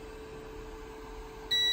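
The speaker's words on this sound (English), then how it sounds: "the beeps happen whenever the end stop sensor gets hit" A single sharp electronic beep from an Elegoo Mars resin 3D printer as its Z-axis end stop sensor is triggered, sounding near the end after a quiet hum of the machine.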